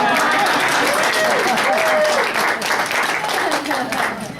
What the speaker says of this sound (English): Let's have an applause for her